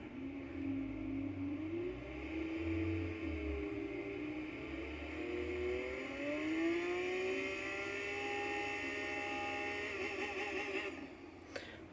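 A car engine in the racing game Forza Horizon 3 revs steadily and climbs slowly in pitch, then drops away at the end, a continuous loud drone with no talk.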